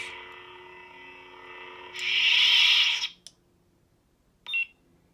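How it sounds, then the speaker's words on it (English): A custom lightsaber's steady electronic tone hums, then a louder bright beep for about a second, followed by two short chirps after a pause. "push and hold until you hear the second beep"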